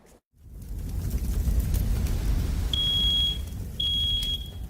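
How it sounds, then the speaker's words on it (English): A smoke alarm under test lets out two long, piercing high-pitched beeps over a low background rumble, the second following a short gap after the first. "WCCO's Jennifer Merrily put smoke alarms to the test"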